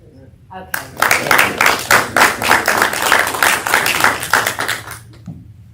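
Loud, sustained clapping from the audience at a Richwood city council meeting, a dense crackle running about four seconds before tapering off, with a voice heard faintly around it.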